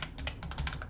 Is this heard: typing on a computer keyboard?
yes